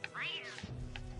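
A cat meows once in Don't Starve Together, a rising and falling game-style mew near the start, followed by softer low rumbling background game sounds.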